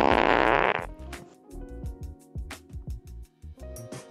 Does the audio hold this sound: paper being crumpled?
no